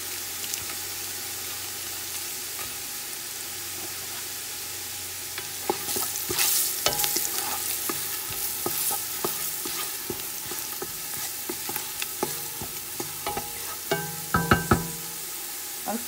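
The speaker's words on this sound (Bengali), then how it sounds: "একটু ভাজা হওয়ার জন্য অপেক্ষা করতেছি" Spices fry in oil for a chicken biryani, a quiet steady sizzle at first, then spoon scrapes and clinks against the pot come and go as the mixture is stirred.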